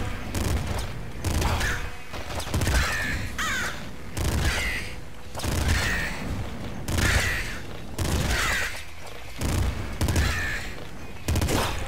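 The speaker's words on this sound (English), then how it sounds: "Like a heavy assault rifle." Heavy assault rifle fire in Nuclear Throne, dense bursts of loud gunfire repeating in waves every second or so, with game explosions and effects layered over the shooting.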